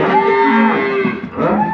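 A black dairy cow gives one long, loud, deep moo close by, its low drawn-out call filling nearly two seconds with only a slight dip near the end.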